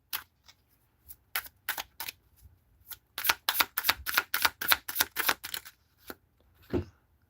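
Tarot cards are shuffled close by in a run of crisp, papery bursts, sparse at first and then rapid and rhythmic before tapering off.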